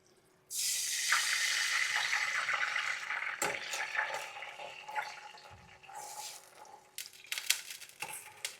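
Water is poured into a hot pan holding jaggery, beginning with a loud rushing hiss of liquid striking the metal, then easing into softer bubbling and sizzling with a few light clinks, close by, with no talking.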